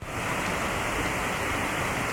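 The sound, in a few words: twin waterfall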